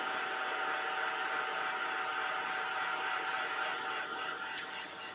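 Hair dryer blowing steadily and loudly to dry paste on a winter-themed scrapbook page layout, a constant close whoosh with no talking.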